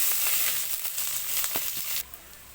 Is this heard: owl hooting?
no